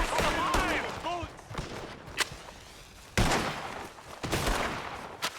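Gunfire in the western video game Red Dead Redemption 2, sharp shots cracking in bursts among other game sounds, with someone shouting over them.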